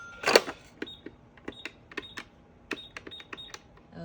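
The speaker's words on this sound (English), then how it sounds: "Mickey Mouse cash register." A Mickey Mouse toy cash register gives a scatter of quick clicks, beeps and electronic tones in an irregular rhythm, close and fairly loud, with no talking.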